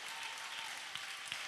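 A church congregation applauding: steady, even clapping from a crowd, fairly faint and continuous throughout the brief moment.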